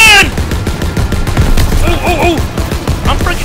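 Rapid, dense gunfire from a WW2 video game battle, loud bursts of shots crackling close by with clattering action sounds between them.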